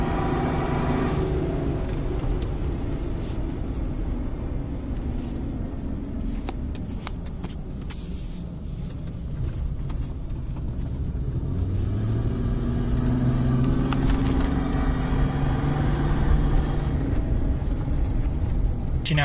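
Ford Sport Trac fitted with a cold air intake drives uphill, its engine rumble rising steadily and growing louder under road noise, with some rattling from inside the cabin.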